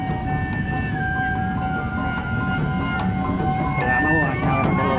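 A train rolls past a railway crossing at Pasar Senen station, with a steady rumble and a sustained warning tone over street noise, while people talk nearby.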